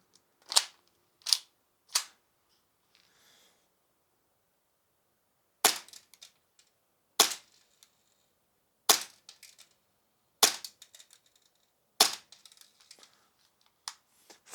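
A Tokyo Marui P320 airsoft pistol fires sharp, snappy cracks, three in quick succession and then a steady string of single shots spaced about a second and a half apart, each followed by faint pellet impacts.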